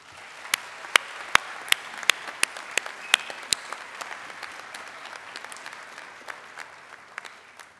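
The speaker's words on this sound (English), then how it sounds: "Graduates, can you give them a round of applause?" Graduates at a winter graduation ceremony applaud support staff: sharp, distinct claps stand out early over a quieter wash of clapping that fades gradually.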